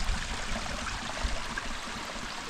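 A small waterfall trickles in Arizona's Superstition Mountains, giving off a soft, continuous wash of splashing water, faint and steady with no one speaking.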